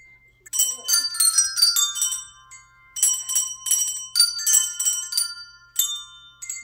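Handbells ring out Jingle Bells, a bright holiday melody in quick clusters of chiming notes, with brief pauses between phrases.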